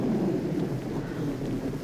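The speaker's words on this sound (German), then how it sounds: "Sturm und Regen. Windgeschwindigkeiten bis 80 Stundenkilometer. Das haben wir ja jetzt schon." Stormy weather outside a farmhouse, with strong wind reaching up to 80 km/h and rain: a steady, dense low roar of gusting wind and rainfall that holds at an even, fairly loud level throughout.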